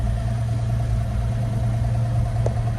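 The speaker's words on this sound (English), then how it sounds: "Sits here and idles nice." A 1951 GMC 3100 pickup truck engine idles steadily with the choke slightly pulled, a loud, even low rumble with a constant hum and no revving, close by and alone.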